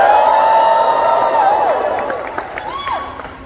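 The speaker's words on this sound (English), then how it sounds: "Now I want you to cheer and shout if you've actually listened to the audiobook." Library audience at a book Q&A cheering and shouting loudly, a dense crowd roar with whoops and rising yells sustained throughout, gradually easing slightly toward the end.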